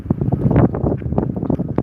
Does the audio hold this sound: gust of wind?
yes